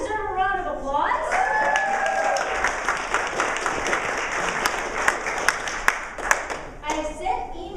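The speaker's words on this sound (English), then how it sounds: "Does that deserve a round of applause?" An audience at a club summit gives a round of applause after a voice finishes speaking, a dense wash of clapping with a few sharp, close individual claps standing out near the end before talk resumes.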